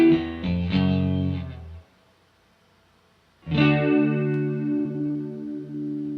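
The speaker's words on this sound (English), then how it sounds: "by changing that delay time, it changes the quality or the sound of the chorus" Instrument tone processed through a chorus effect whose delay time is being changed, sounding as two sustained, shimmering chord-like phrases with a brief silent gap between them, thick and slightly warbling.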